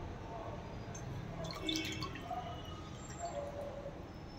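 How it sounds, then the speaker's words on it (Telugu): Chicken pieces for Andhra-style fried chicken are dipped in water and drip in a kitchen, making soft, faint splashes and drips under a quiet background with some talk. "తర్వాత వాటర్లో ముంచి"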